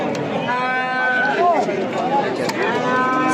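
A male calf moos loudly a couple of times amid a noisy outdoor crowd at a cattle market in Kitob, Qashqadaryo, Uzbekistan, with people talking around it.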